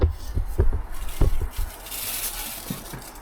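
Rubbing and scraping strokes while the sump base of a 162k-mile VW Golf engine is wiped clean during a timing chain repair, a few sharp close scuffs early, then a steadier hissy wipe, with faint voices in the background.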